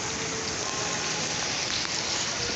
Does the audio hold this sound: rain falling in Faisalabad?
yes